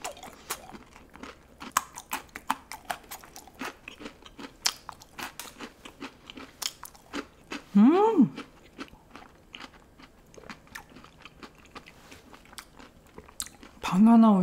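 Pepero and yakgwa bitten and chewed together in a close, crunchy mukbang, with repeated sharp crunches and soft chewing through most of the clip and brief speech breaking in twice.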